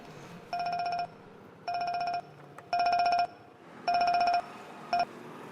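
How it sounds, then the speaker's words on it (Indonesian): A telephone rings in bright electronic bursts, five trilling pulses at a regular pace, clear and close in an otherwise quiet room. "Ada telepon."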